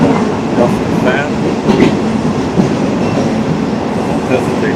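Interior of a third-class train running through North Thailand, a loud continuous rumble of wheels on rails with rhythmic clacking and rattling of the carriage, wind noise through open windows, and some faint talk.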